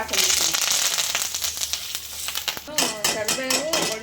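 Spices such as chilli and asafoetida frying in a pan for curry leaf rice give a steady, close sizzle with crackling pops; a voice joins in partway through over the continuing fry.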